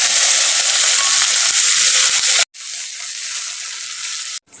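Chopped onion frying in hot oil with bay leaf, dried red chillies and black cumin sizzles loudly and steadily, drops out briefly, then hisses again more softly before another short break.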